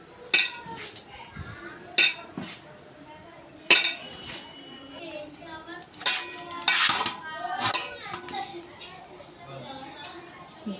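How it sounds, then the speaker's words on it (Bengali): A little flour is mixed into dough with hot water and salt in a bowl, giving intermittent clinks and scraping knocks against the bowl, with a voice speaking softly between them. "অল্প নুন দিয়ে গরম জল দিয়ে এবার আমি ডোটা মেখে নেব।"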